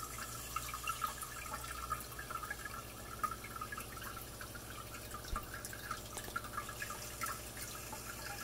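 Steady trickle of water running into a container as an auto top-off system for a reef aquarium fills from an RODI unit, with faint dripping and splashing continuing throughout at a constant level.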